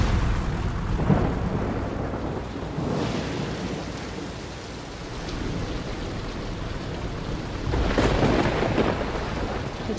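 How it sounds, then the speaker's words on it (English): Rain pours steadily in a Dragon Quest Treasures game scene while deep rolls of thunder swell and fade, one near the start and a louder rumble toward the end, all without talk. "Starting to rain."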